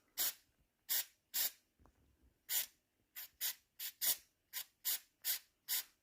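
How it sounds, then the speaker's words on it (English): A spray can applying underseal on a Mk2 Jetta in short, sharp hissing bursts, about a dozen quick taps in an uneven rhythm, close and alone with a brief quiet rustle between. "when you're spraying it, literally just tap the top of the spray can"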